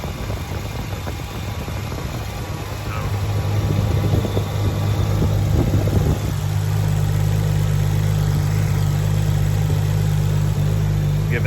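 A Nissan GTR engine runs with a newly installed Ross Performance idler pulley. It holds a steady idle at first, then a louder, deeper droning hum that stays continuous and close, with no talk.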